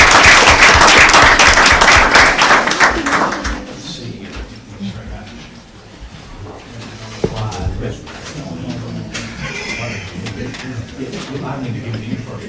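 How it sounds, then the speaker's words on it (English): A burst of loud clapping from a crowd at a school board of education meeting fills the first few seconds, then fades into quieter room noise and shuffling. "Let's give them a round of applause."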